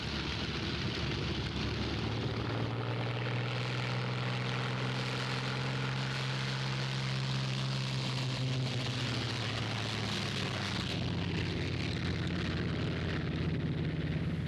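A 1947-era propeller warplane taxis out with a continuous heavy engine drone that rises and falls in pitch, rumbling and steady for the whole stretch, moderately close and alone.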